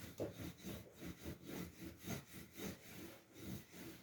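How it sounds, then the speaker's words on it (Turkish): Dough for Turkish açma pastry is rolled out into a thin yufka sheet with a rolling pin, giving repeated rhythmic rubbing strokes, about eight passes, close and steady with no talk. "Geriye kalan hamurumuzu bir yufka şeklinde açıyoruz."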